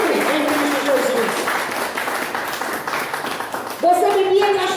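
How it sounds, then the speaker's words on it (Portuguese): Church congregation applauding during a worship service, a moderate burst of clapping that swells and fades over a few seconds while a voice speaks over it. "Aplaude o Senhor."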